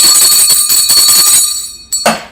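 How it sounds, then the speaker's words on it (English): A loud bell rings in steady repeated strokes with sustained ringing tones, marking a college football upset as Appalachian State beats the Chanticleers, then stops and gives way to a couple of brief sharp sounds near the end. "Saddest bell ring of the season."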